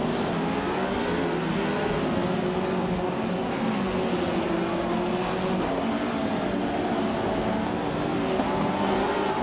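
Matra MS7F race cars and rivals circling a tight-cornered circuit, a continuous loud engine drone with shifting pitch as several cars run close together through the curves, no voices.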